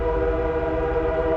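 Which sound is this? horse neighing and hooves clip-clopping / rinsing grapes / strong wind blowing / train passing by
train passing by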